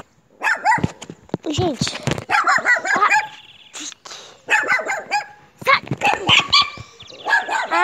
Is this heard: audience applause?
no